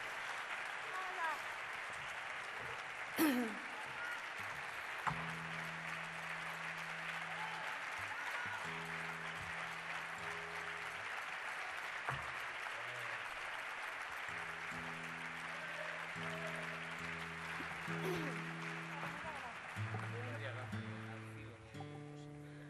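An audience applauds at a flamenco club's anniversary celebration, a continuous, fairly distant crowd clapping that holds steady throughout, with some voices and tonal sounds surfacing underneath.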